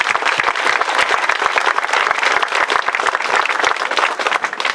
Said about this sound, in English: they all deserve a round of applause from us